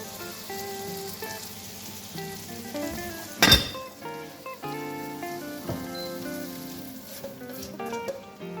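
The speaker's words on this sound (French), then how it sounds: "j'aime bien faire saisir ma viande à la poêle" Meat searing in a hot frying pan, a continuous crackling sizzle with scattered pops and one sharp burst partway through, steady and close with no voices.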